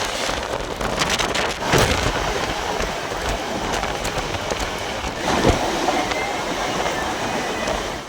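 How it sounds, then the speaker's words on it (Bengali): A train entering Beldanga station rolls along with a loud, continuous rumble, wheels clattering and wind buffeting the microphone throughout. "বেলডাঙ্গা স্টেশনে ঢুকছে ট্রেন"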